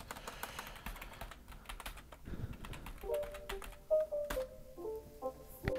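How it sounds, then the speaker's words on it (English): Fingers type rapidly on a computer keyboard, entering an IP address and username; quiet, close clicks in irregular bursts with short pauses between them. "so here you need to type the IP address and the username."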